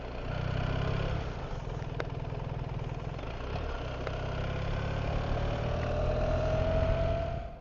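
A fellow rider's motorcycle on a Pyrenees mountain road, its engine thrumming steadily nearby for several seconds, with a faint whine rising toward the end and no talking.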